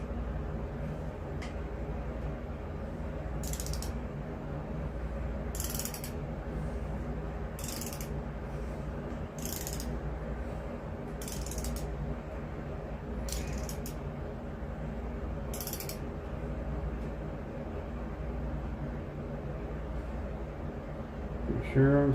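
Torque wrench clicking while tightening bolts to 24 foot-pounds on a 351 Windsor engine, a series of sharp ratchet clicks spaced every second or two over a steady low hum, no talk.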